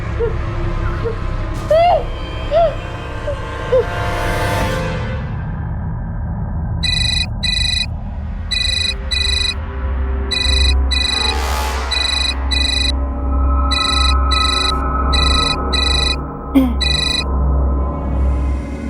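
A mobile phone rings for an incoming call, a rhythmic electronic chirping pattern repeating in short bursts over a busy background of street noise and voices.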